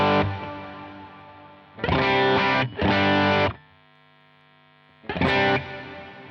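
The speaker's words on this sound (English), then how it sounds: "So this Revelation reverb is pretty awesome." Electric guitar played through a Line 6 HX Stomp XL with Revelation reverb on its modulation setting: three short strummed chords, each ringing into a long, shimmering wash of modulated reverb tail that fades between hits.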